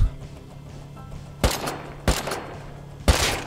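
Video game gunfire in three sharp, loud shots spaced about a second apart, each a broadband crack with a short decay, over a low steady hum.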